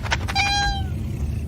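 A single clear house cat meow, short and rising then falling, heard close and alone against a quiet room.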